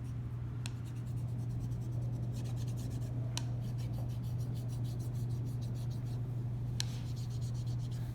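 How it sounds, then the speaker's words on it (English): A wooden spoon burnishes newsprint laid over an inked relief printing block, giving small, steady rubbing strokes with a few sharper scrapes over a constant low hum. "You don't want your burnishing motions to be big or violent"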